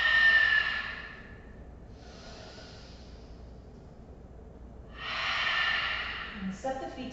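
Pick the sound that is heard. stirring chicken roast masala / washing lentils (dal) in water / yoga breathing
yoga breathing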